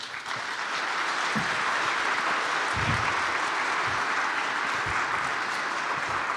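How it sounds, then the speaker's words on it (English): Steady, full applause from the audience at an all-candidates forum for a provincial election in Calgary Northwest, dense clapping sustained evenly throughout. "So I'd like a round of applause for all the candidates"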